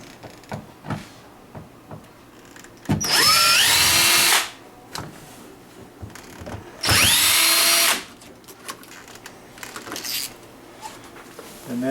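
Power drill backing screws out of a Kevo deadbolt, two loud whirring bursts of about a second and a half each, separated by quiet handling clicks and small knocks.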